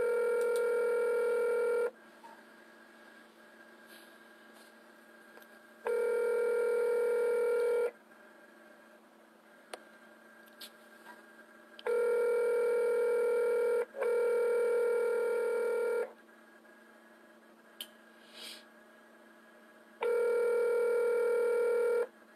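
A phone call rings out through a handset: repeated two-second ringback tones spaced by quiet gaps, with a few faint dialing clicks and no talking.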